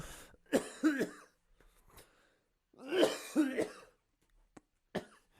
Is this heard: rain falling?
no